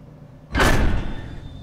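A door opening in the horror video game Penumbra Overture: one loud broadband creak and thud bursts in suddenly and then trails off into a lingering rumble, with no voices.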